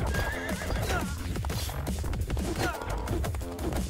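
Horse neighs and whinnies in the video game Knight Squad, with clip-clop hooves over busy game noise, dense and loud throughout.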